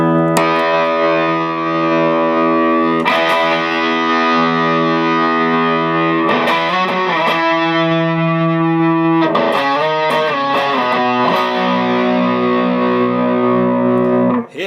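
Loud distorted electric guitar through a Kelley Oxblood overdrive pedal on the bridge pickup, with a bright, biting tone, sustained chords ringing out and changing every few seconds, played alone.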